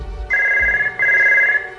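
A telephone rings in two long electronic bursts separated by a brief gap, loud and close, with no voices.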